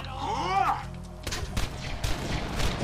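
A voice shouts briefly, then a series of sharp gunshot bursts rings out close by in the video game Borderlands 2, several shots in quick succession.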